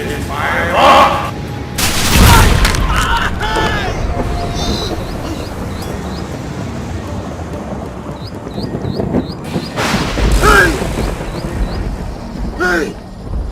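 Gunfire from a firing squad in a Nollywood drama, loud bursts at about two seconds and again near ten seconds over a busy, noisy background, with voices talking and shouting throughout.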